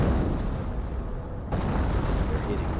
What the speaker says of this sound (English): Now got another artillery barrage here. Almost looks like a creeping barrage to me.